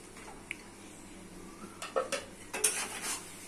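A lid set onto a cooking pot of kabuli chickpeas and potatoes, a few faint metallic clinks and scrapes in a quiet kitchen, no voices.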